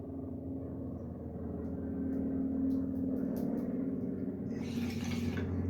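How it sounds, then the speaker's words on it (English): A large helicopter passes overhead as a steady low rumble with a faint rhythmic throb, growing slightly louder midway and holding near and constant to the end. "Sounds like a big helicopter"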